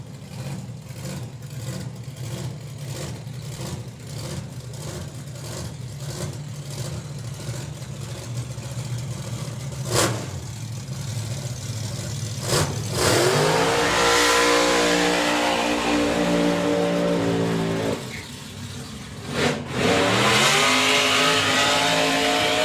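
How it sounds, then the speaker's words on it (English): Supercharged Outlaws drag racing cars do burnouts at a drag strip, with engines idling and revving, then a loud sustained roar of tyre-spinning engine climbing in pitch, a pause, and a second sharp rev. "Pauldale matching Aaron for the burnout"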